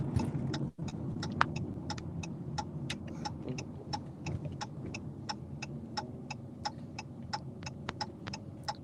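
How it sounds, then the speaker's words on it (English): Steady road traffic from a nearby freeway, a continuous low rumbling drone with a brief dropout early on, overlaid by regular short high ticks running through the whole stretch. "I can hear him on the freeway and stuff"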